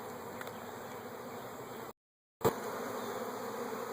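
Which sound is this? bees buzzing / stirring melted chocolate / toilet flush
bees buzzing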